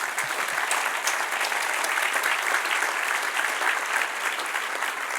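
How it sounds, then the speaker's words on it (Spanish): Church congregation clapping in praise during a sermon, a sustained, even wash of many hands applauding for several seconds at moderate volume, no voices on top. "Dale un aplauso a nuestro Dios."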